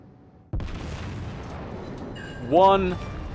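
A single heavy boom from battleship primary guns in World of Warships, aboard the Tirpitz, hitting sharply and rumbling away, followed by a short tonal alert or whine near the end.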